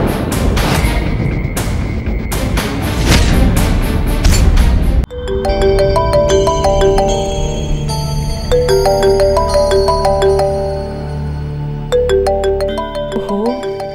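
After a few seconds of loud noise, a phone ringtone starts, playing a bright repeating melody of electronic tones.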